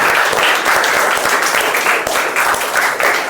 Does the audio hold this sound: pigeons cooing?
no